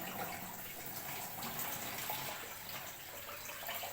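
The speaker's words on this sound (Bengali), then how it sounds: "এর মধ্যে একটু জল দিয়ে নেবো দেখো এ দেখো জলে ভিজিয়ে নিচ্ছি" Water pours steadily from a tap to soak a cleaning cloth, a continuous close splashing rush that stays level throughout.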